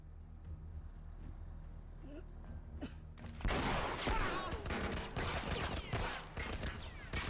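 Enemy gunfire in the video game The Last of Us breaks out suddenly after a quiet stretch, a loud, dense volley of rapid shots and cracks that keeps going steadily.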